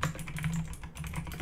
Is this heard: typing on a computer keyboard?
yes